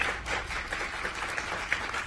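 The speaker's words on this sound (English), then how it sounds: "Let's give a round of applause." Faint, steady applause at a school board meeting welcoming a new principal, a light wash of scattered clapping from the room with no speech over it.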